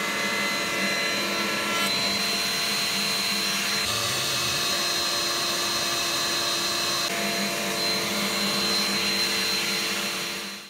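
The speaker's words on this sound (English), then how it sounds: "I then took off all the sharp edges with a 45 degree chamfer bit in the router table." A router table fitted with a 45 degree chamfer bit cuts the edges of wooden coffee table legs, producing a loud, continuous high-pitched whine with slight shifts in tone as each pass is made.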